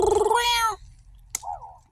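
A cat on a rural desert property near Tucson meows loudly and close, one long rising-falling call, followed after a short pause by a faint click and a quieter, shorter second meow.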